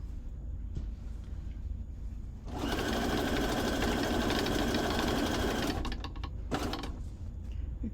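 A sewing machine stitches a decorated journal cover in one loud continuous run of about three seconds, followed by a couple of short bursts of stitching, with quiet handling sounds in between.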